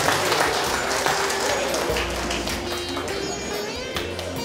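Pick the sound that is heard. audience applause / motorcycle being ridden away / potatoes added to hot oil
audience applause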